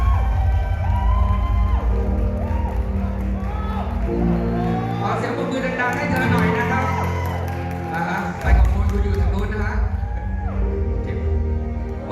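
A crowd at a Miss Grand Thailand 2022 pageant press event claps, whoops and cheers to welcome the new pageant manager, loud and sustained, with a voice over the PA and music playing beneath the noise.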